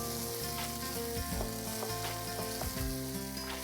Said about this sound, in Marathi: पुन्हा एकदा आपण हे मिक्स करून घेऊया आणि हे टोमॅटो शिजेपर्यंत आपण हे परतत